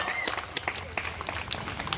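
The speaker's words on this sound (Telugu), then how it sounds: "దయచేసి అందరూ కూడా మీ మీ ఆనందాన్ని చప్పట్ల రూపంలో తెలియజేయవలసిందిగా కోరుతున్నాం" An audience claps at an evening devotional gathering held during the Karthika month in a Bhimavaram apartment estate, a steady patter of many hands that continues throughout.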